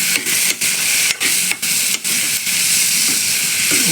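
Tomatoes sauté in a hot pan for a dried-fish tamarind curry. A loud, close hissing sizzle is broken by brief, regular dips as the mixture is stirred, with no talk.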